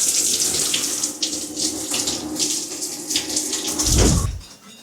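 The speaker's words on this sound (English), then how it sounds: "Time to hop into the cold shower." Cold shower water runs steadily and close by, a broad hiss like a tap gushing, with a brief louder low splash near the end.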